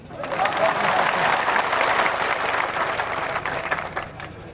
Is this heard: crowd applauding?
yes